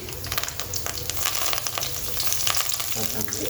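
Peanuts, coriander and curry leaves fry in a pan with a close, steady sizzle. Light stirring crackles and scrapes come through it, and no one speaks.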